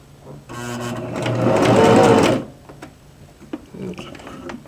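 Sewing machine running a base stitch on a skirt toile for a wrap skirt, a loud steady mechanical whir lasting about two seconds that builds then stops, followed by faint clicks and handling.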